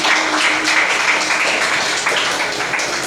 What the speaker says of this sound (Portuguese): aplauda bem forte o nome do Senhor Jesus